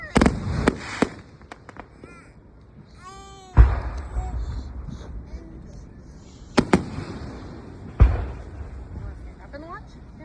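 Fireworks burst at a backyard display, several sharp crackling bangs spaced a few seconds apart, with fizzing whistles between them and people talking in the background.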